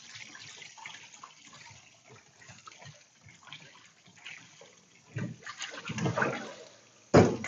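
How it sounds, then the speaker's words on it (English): Boiled yakisoba noodles are rinsed under running water, giving a soft continuous trickle with light handling sounds that build into louder splashing toward the end, close by and without talk. "when you're making yakisoba, in general, you want to wash the noodles after you boil"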